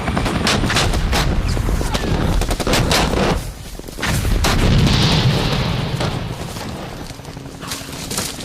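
Dense, rapid gunfire from the jungle below aimed up at helicopters in a war, bursts of machine-gun and rifle shots crackling loudly and continuously, with a brief lull before the shooting resumes.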